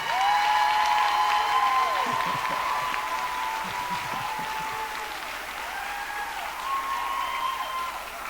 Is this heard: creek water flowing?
no